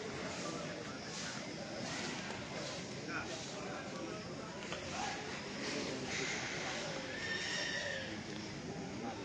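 Horses at the Sisai horse fair in Bihar, on a rainy third day, neigh and whinny amid a constant murmur of crowd chatter and general fair noise, with the calls rising only briefly above the din.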